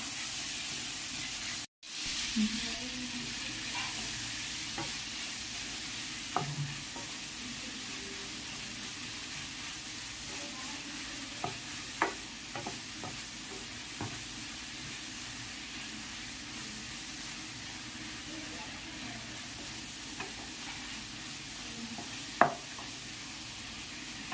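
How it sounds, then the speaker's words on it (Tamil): Cabbage sautés in a pan with a quiet, even hiss of frying, with occasional faint clinks of a spoon and one sharper knock near the end. "இப்போ நம்ம கோஸ் ஆட் பண்ணிக்கலாம். கோஸ் நல்லா வதங்கட்டும்."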